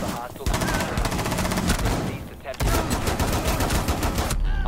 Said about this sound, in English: Getting shot from the window.